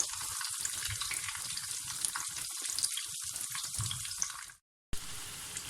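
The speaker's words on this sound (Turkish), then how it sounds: "O daha çabuk kızarmaya başladı." Chicken nuggets fry in hot oil with a dense, crackling sizzle that holds steady and close, cuts out abruptly for a moment near the end, then resumes.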